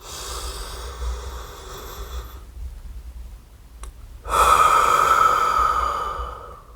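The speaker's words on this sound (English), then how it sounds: "You want to stay focused on the sound of your breathing." Slow, audible breaths: a long airy inhale followed after a short pause by a louder, steady exhale through the mouth, close to the microphone.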